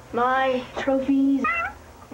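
A pet cat gives a few clear, close meows in quick succession while someone talks over and between them.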